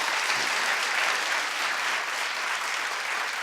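A studio crew claps and applauds, a dense, steady wash of hand claps that holds at an even level for the whole span with no voices on top.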